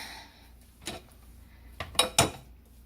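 A spatula scrapes and knocks against a bowl while mixing Orange Vanilla Coca Cola cake batter, with a few sharp, close clacks spaced apart in an otherwise quiet kitchen.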